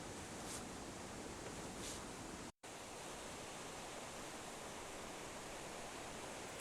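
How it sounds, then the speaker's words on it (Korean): Rough, rushing water of the Hantan River in winter, pouring through a frozen gorge and breaking through thick ice; a steady, loud, broadband roar close by, with one abrupt brief dropout midway. "협곡 사이 꽁꽁한 얼음을 뚫고 시원하게 쏟아지는 거친 물소리가 발길을 사로잡는다."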